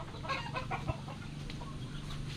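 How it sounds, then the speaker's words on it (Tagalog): Newly hatched chicks and adult chickens in a rainy backyard flock cluck and peep in soft overlapping calls, close and fairly quiet over a low steady background hum. "Ito yung bagong pisa natin."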